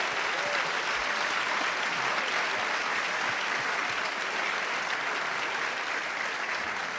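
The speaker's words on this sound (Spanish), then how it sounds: "este aplauso es para ustedes en reconocimiento" An audience at a panel discussion on treaty negotiations gives sustained applause, a dense, even wash of clapping that holds steady throughout.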